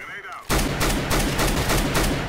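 Dense rapid gunfire in a shooter video game starts abruptly after a brief quiet moment and continues as loud, overlapping bursts of shots with a few stronger cracks throughout.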